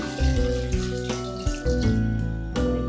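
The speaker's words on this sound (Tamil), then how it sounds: "தேவையான அளவு தண்ணி சேர்த்துக்கலாம்." Water splashes into a pan of frying vegetables and masala for Tamil poricha kulambu, a close, continuous gushing pour with a few brief interruptions as the flow shifts.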